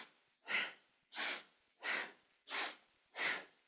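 Five slow, rhythmic breaths during a kundalini yoga twisting kriya, each a strong, airy nasal inhale or exhale about 0.7 seconds apart, close and clear with no talking.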